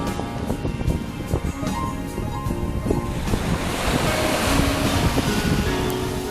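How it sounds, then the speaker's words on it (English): Ocean waves wash steadily onto Bambolin Beach, a broad continuous surf roar mixed with wind rumble on the microphone, swelling a little louder toward the end with no voices. "You can see waves over here."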